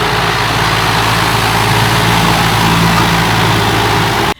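A John Deere tractor engine runs at a steady, loud, close throb with a constant low rumble and no change in pace, stopping abruptly at the end.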